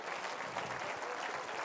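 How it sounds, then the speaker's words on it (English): Dense, steady applause from an audience at a hypnosis stage show, a continuous wash of many hands clapping with no talk over it. "Give these folks a round of applause."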